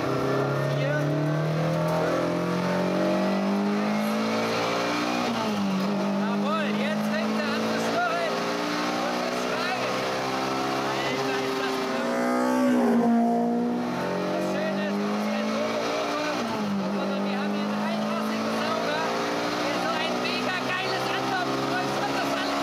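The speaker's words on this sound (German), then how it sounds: "Ich trete jetzt gerade das Gaspedal kurz durch, es passiert gar nichts." A classic BMW engine held around mid revs with the throttle pressed, a steady droning hum that swells slightly in a couple of slow blips without revving up sharply, heard close and continuous.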